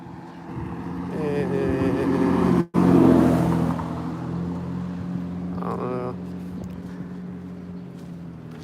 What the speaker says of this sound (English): There's an engine sound ahead of me right now.